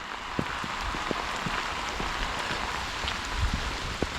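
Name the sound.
rain falling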